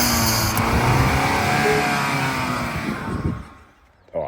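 Ford Ranger PHEV engine revving, with the wastegate on the turbo boost producing whooshing and fluttering noises; a steady loud rev sweeps upward and then drops off, followed by a short sharp burst near the end.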